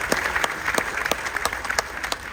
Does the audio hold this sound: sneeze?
no